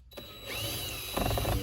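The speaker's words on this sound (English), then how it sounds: "I'll use a drill for this" Power drill whirring while working on a 2004–2007 Subaru WRX headliner, a steady motor drone building after a brief pause and swelling louder near the end, close up with no talk.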